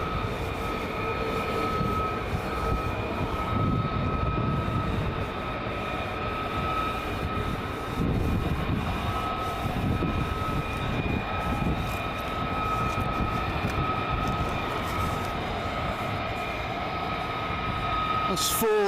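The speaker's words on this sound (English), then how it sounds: "That's 4 F-35s coming down." Four F-35 fighter jets come in to land at RAF Lakenheath at night, a steady distant engine roar and whine holding throughout, with faint speech-like murmur over it.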